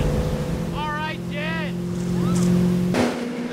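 A boat engine drones steadily while underway, with wind and water noise and the pounding of waves around it, as a voice talks briefly over the hum before a sharp change near the end.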